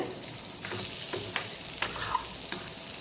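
Potatoes fry over a low flame in a pan, a soft steady sizzle broken by occasional scrapes and clicks as they are stirred, close and moderately quiet with no talking.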